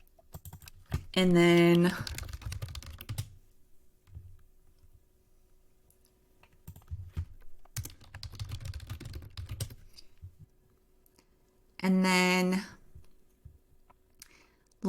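Keys on a computer keyboard click and tap in quiet, irregular runs while text is edited, heard close under a speaking voice that breaks in briefly twice.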